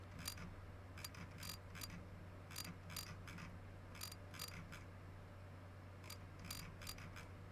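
A ratchet tightens bolts on a junkyard truck engine during a camshaft swap, with short bursts of quick clicking repeated in clusters over a low steady hum, close but faint.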